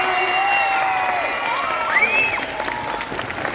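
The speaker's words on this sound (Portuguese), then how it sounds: "Agora eu queria ouvir uma salva de palmas para Letícia e Luluca" Audience applause for Letícia and Luluca at the Bienal do Livro 2024 book fair, a steady wash of clapping with high shrieks and cheers from children over about three and a half seconds.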